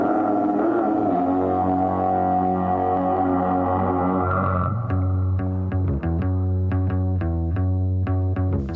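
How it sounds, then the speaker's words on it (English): The intro to a song features a heavily distorted, gruff Cookie Monster-like voice singing a lofty melody over a sustained tonal backing, then giving way to steady plucked notes. "it's basically this weird distorted voice performing this lofty intro melody"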